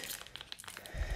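A Pokémon card booster pack is torn open up close, with quick crinkling and tearing foil sounds and a soft thump of handling at the end.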